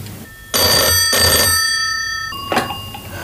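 An old landline telephone rings in an office, two loud bell bursts followed by a short clatter like the receiver being lifted, with no voices.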